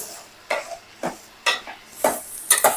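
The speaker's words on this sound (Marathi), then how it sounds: "मोदकसाठी सारण भरूया आता व्यवस्थित असं हलवून घ्यायचं" A coconut and jaggery modak filling is stirred in a pan with about six distinct spoon scrapes at a fairly even rhythm, each close and crisp over a quiet, faint background sizzle, and no voices.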